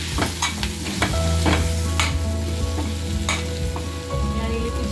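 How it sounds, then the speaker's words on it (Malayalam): Green chillies and curry leaves sautéing in a pan for a potato roast, a loud close sizzle with scraping stirs and sharp spatula knocks over a steady low hum. "പച്ചമുളകും കറിവേപ്പിലയും കുറച്ച് ആഡ് ചെയ്തിട്ടുണ്ട്. ഒരു 3-4 മിനിറ്റ് ഇതിൽ കിടന്നൊന്ന് വഴറ്റിയെടുക്കണം."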